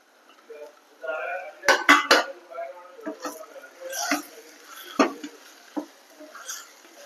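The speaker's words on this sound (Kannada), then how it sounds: "ಹೆಚ್ಚಿಟ್ಟಂತ ಮಶ್ರೂಮ್ಸ್ ಹಾಕ್ತಾ ಇದ್ದೇನೆ." Chopped mushrooms go into a pot for a one-pot paneer and mushroom biryani, with a scatter of clinks, taps and soft pattering from the pot and utensils while a voice talks throughout.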